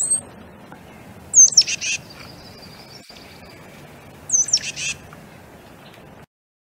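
Two loud, close songbird phrases ring out, each a sharp whistled note followed by quick chattering bursts, separated by quiet insect-like background hum.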